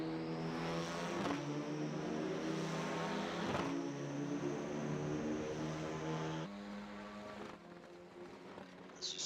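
Renault Clio race cars in the iRacing simulator battle for position at Circuit Park Zandvoort, their engines droning loudly and steadily with pitch shifts as they rev and lift.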